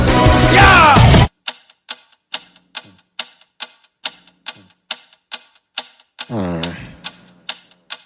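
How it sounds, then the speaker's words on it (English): A mysterious ticking noise, a steady series of about a dozen sharp mechanical clock-like ticks at a regular pace, following a loud burst of music and briefly overlapped by a sung voice. "What is that mysterious ticking noise?"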